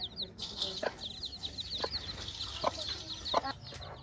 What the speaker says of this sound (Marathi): हे बघा या कोंबड्या बघायला आले बघा आम्ही